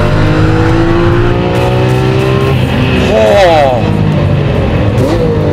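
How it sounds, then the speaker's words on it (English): A Lamborghini Aventador's 700-horsepower V12 roars up through the gears at Exotics Racing, loud and close, with rising whines that drop at each shift; a voice exclaims briefly over it. "it definitely makes up for with that 700 horsepower V12 engine fitted behind it."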